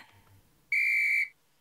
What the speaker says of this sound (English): Right then you hear a shrill whistle.